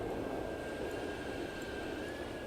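Steady drone of an airplane engine in the Transport Fever video game, a constant broad roar with a faint thin whine held throughout, no talking.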